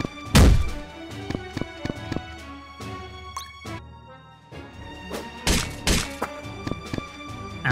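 Weapon strikes from a double axe attacking twice in the Dark Deity tactics game: heavy thunking impacts and crashes land in quick pairs, with sharp metallic transients and a deep thud at the start, no talk.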